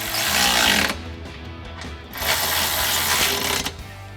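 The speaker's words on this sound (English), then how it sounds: "go ahead and tighten them down using a 13mm socket" A ratchet with a 13mm socket tightens the step brackets on a 2021-2024 Ford Bronco, giving two bursts of close, busy ratcheting clicks separated by a quieter pause.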